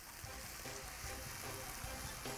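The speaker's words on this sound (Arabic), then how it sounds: "هشوحها كده مع شويه الزيت اهو" Fish stuffing sautéed with a little oil in a pan for stuffed mullet, giving a steady soft sizzle and frying crackle throughout, close and even, with no talk over it.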